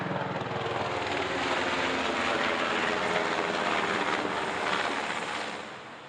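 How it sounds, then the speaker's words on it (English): A helicopter flies overhead with a loud, thudding rotor and engine roar that swells, holds steady and then starts to fade, and no one speaks. "Hello, helicopter."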